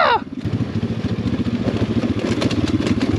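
A pit bike engine running downhill on a slippery snowy slope with no front brake, a loud close throbbing motor with fluttering, uneven revs throughout.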